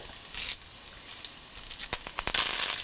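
Ginger, green chilli, garlic and curry leaves sautéing in hot oil in a pan, cooked for a prawn and tapioca biryani. A steady close sizzle runs throughout, with sharp crackles and pops bursting out near the end.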